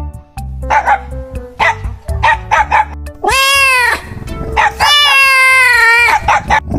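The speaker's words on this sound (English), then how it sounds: "Cat and puppy are playing." A cat and a puppy playing make a busy run of short yips and barks, then two long drawn-out meow-like cries stand out loudly, with more barks between and after.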